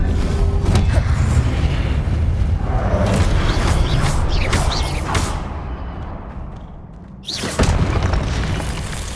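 Spells cast in the video game Hogwarts Legacy, heard as a dense run of loud booming magic blasts and bursts layered over a constant low rumble, with a brief dip before a fresh burst near the end.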